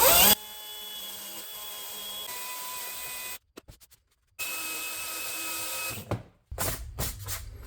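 A drill whines steadily as it bores a hole through a plastic RV roof, then cuts out briefly with faint clicks before starting again with rougher bursts, close and loud.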